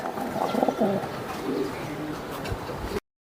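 Racing pigeons, including red checkers, coo in low, throaty rolling calls close by, a few overlapping coos repeating over steady background noise.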